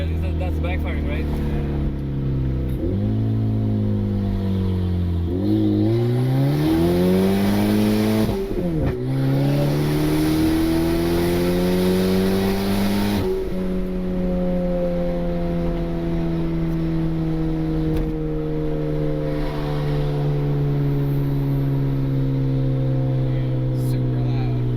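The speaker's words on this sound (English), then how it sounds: "You can hear the backfiring, guys. That's the backfiring, right?" A loud turbocharged Honda Civic engine revs up and down repeatedly, its harsh roar rising and falling, with brief sharp backfire pops breaking through, while a person talks over it.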